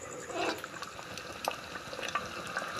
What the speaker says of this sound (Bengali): জলটা দিয়ে দিচ্ছি নয়তো ওইটুকু জলটা পুরো টেনে নেবে